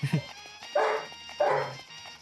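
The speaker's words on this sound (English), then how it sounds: "Oh goodness, they're barking a lot." Several dogs bark in a home, two strong barks about half a second apart after a brief yip, moderately close and heard alongside a quiet voice in the room.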